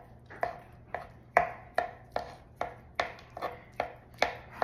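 Hard-boiled egg being chopped small with a cheese knife on a board for egg salad with Japanese mayo: about a dozen sharp knife-on-board taps in a steady rhythm, close and clear, with no talking.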